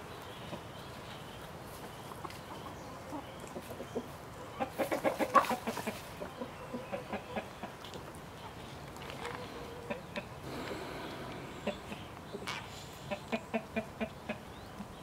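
Hens clucking around a farmyard, with a burst of louder squawking and clucks near the middle and repeated short clucks toward the end, over a busy, noisy outdoor background.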